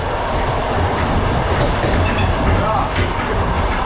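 Inside a long-distance passenger train, a loud, steady rumble of wheels on rails fills the space with a continuous rolling roar, with faint rhythmic clatter and no clear voices.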